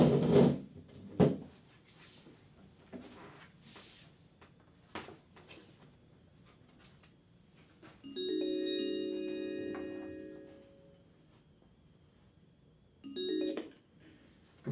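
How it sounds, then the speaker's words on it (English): A door closing in a hospital radiology office gives a couple of sharp wooden thuds at the start, followed later by quiet electronic telephone tones in an otherwise hushed room. "So I close the door?"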